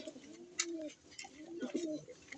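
A newly paired couple of pigeons coo in their cage, two soft rolling phrases close to the listener separated by a brief pause, with light scratchy rustles in the quiet background.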